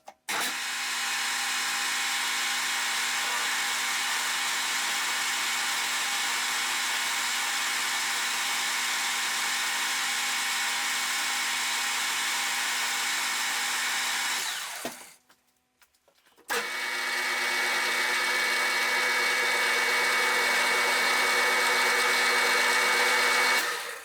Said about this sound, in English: I need to face off the end back to my datum face